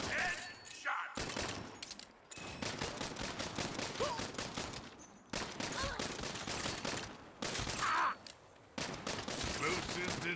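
Rapid bursts of gunfire from the video game Saints Row, loud and dense, with sustained automatic volleys broken by brief pauses, and a voice speaking over the shooting.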